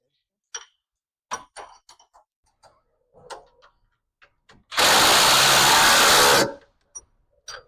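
A power driver tightens a bolt on a Venom 125cc mini jeep in one loud steady burst of nearly two seconds, preceded and followed by small clinks and handling noises.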